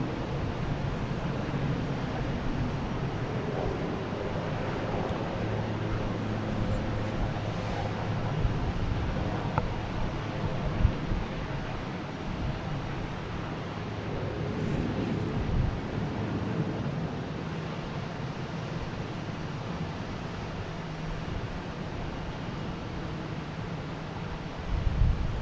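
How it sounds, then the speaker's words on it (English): A JetBlue Airbus A320 takes off at Boston Logan Airport bound for Fort Lauderdale, a steady, distant engine roar with broadband rushing noise and wind that holds throughout. "We got a JetBlue taking off, heading to Fort Lauderdale in A320."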